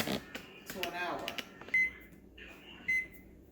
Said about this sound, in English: I'm gonna reset my oven to an hour